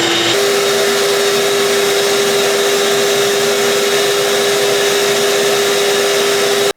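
Wet vac running through a small homemade micro hose attachment, a loud, steady whine with a constant hum. It plays alone throughout with no voices.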